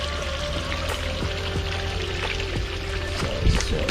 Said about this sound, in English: Water going back out.